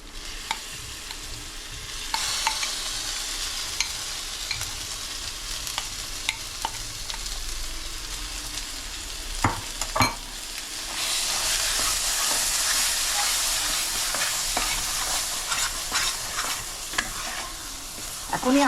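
Shrimp bharta being stirred and mixed in a hot pan, village style, with a continuous sizzle that swells loudly partway through and scattered scraping strokes, close up and without speech.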